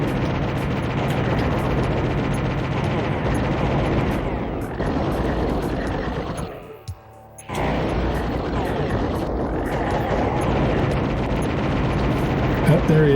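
Cannon fire in Krazy Ivan, a steady mechanical roar with dense rapid bursts of gunfire and blasts, briefly dropping out midway before resuming, with a voice talking over it.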